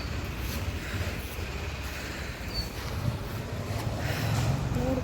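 Outdoor wind blows in a steady, rough rumble buffeting the microphone, swelling slightly louder near the end, with no speech.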